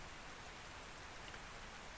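Steady rain pours down in the survival game Ark Survival Ascended, a dense, even hiss of falling water that stays constant and fairly faint, with no voices over it.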